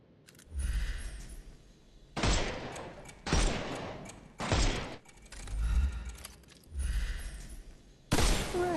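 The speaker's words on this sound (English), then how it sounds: "Shoot off their armour." Gunfire in a Sherlock Holmes video game as enemies' armour is shot off: six or seven loud, separate bursts of shots, each lasting about a second, spaced by short pauses.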